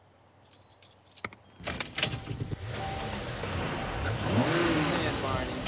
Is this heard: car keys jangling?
yes